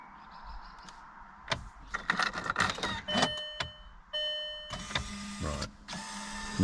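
Land Rover Freelander 2 ignition switched on inside the car: key clicks and rattles followed by electronic chimes and beeps, a whirring relay or motor hum, and sharp mechanical clicks at close range.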